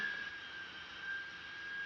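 Steady jet engine roar from a Boeing 777 in a flight simulator game, a smooth continuous whine and rush at moderate level with no change across the stretch.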